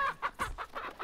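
Chickens clucking in the video game Resident Evil 4, several short, close clucks in an uneven rhythm, one brief burst after another with no talk.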